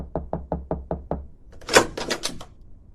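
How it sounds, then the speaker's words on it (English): Six evenly spaced soft knocks on an office door, close and muffled, then a brief rustle of handling or movement with no speech. "a soft knock sounded at his office door"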